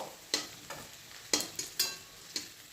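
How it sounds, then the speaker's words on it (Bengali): Potatoes frying in a pan, cooked almost crisp, with a few sharp scraping stirs standing out over a soft, steady sizzle at close range, no voices. "আলুগুলো প্রায় ভাজা ভাজা হয়ে গেছে"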